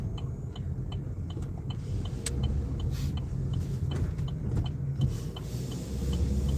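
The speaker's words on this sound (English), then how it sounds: "I just got to wait for this truck to go in" Heard from inside a car, a truck rumbles by with a low, steady engine drone that swells slightly toward the end, with faint clicks and cabin noises over it and no talking.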